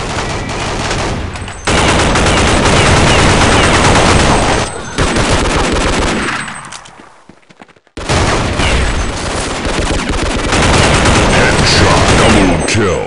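Rapid, loud automatic fire from the CROW-7 rifle in the video game Counter-Strike Online rattles on continuously, broken by brief gaps and a short pause midway before the burst resumes.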